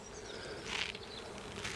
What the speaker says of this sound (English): there are lots of bees and lots of capped honey in those cells